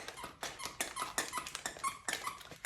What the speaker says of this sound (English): We have a dog squeaking a toy.